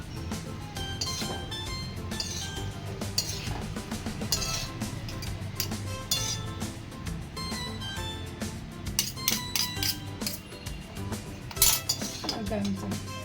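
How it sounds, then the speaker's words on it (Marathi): A utensil stirs vegetable noodles in a pan, scraping and clinking against the metal in steady, gentle strokes, with a brighter run of clinks toward the end. "परत त्याला मिक्स करूया हलक्या हाताने"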